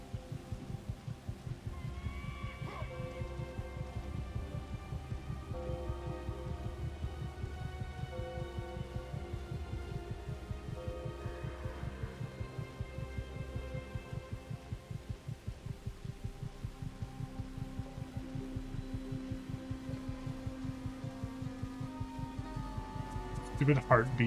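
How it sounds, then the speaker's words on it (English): A low-health heartbeat warning from the video game God of War throbs in a steady, continuous rhythm throughout, a dull repeating pulse over a faint hum of game ambience. "Stupid heartbeat sound this whole time because I'm almost dead."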